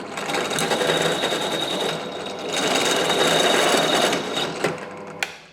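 Power drill boring a 6 mm hole in a metal guitar pedal enclosure for a DC jack, a steady high whirring buzz with a brief dip in the middle and a couple of sharp clicks near the end.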